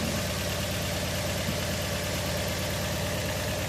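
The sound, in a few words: Toyota Vios engine idling and misfiring at low RPM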